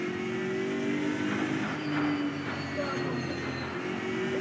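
A race car engine in the RaceRoom sim, driven with a Logitech G29 wheel and shifter, hums and revs steadily throughout, with pitch rising and falling as gears change, while a voice talks over it.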